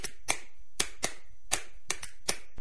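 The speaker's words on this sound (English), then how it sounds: "clapping your hands" Sharp, isolated hand claps ring out about six times in an uneven rhythm, close and crisp with quiet gaps between them and no voices.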